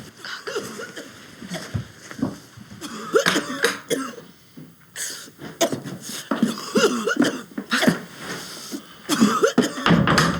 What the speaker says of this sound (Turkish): Çok fena öksürüyor deyin.